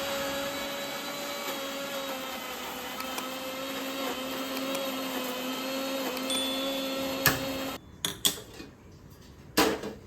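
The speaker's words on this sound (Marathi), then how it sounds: "तर गाईज आता हे सर्व आपण वाटून घेऊया" A kitchen mixer grinder whirs steadily at high speed, grinding dry cumin and Kashmiri chili powder for a butter chicken masala. The motor runs loud and continuous, then stops, leaving a few clattering knocks.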